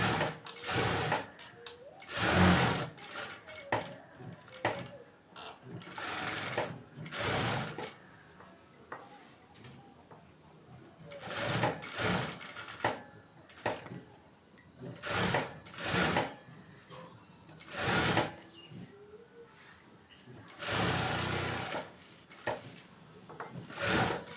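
A sewing machine stitches the lining edges of a silk blouse in repeated short bursts of rapid mechanical whirring, separated by quiet pauses for handling the fabric.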